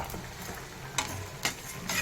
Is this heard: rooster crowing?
no